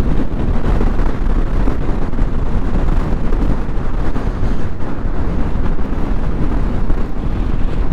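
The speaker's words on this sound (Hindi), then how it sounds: "बहुत तगड़ा विंड ब्लास्ट है" Strong wind buffets the microphone of a motorbike on a mountain road near Kargil in Ladakh, a loud, continuous roar with gusty fluctuations throughout.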